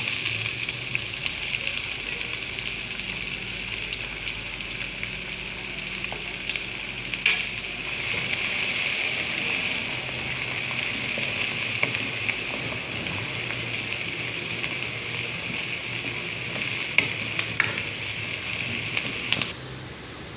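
Onions and round chillies frying in a pan for aloo keema, a steady, close hiss of sizzling oil running throughout with occasional stirring clicks and a brief louder scrape near the end.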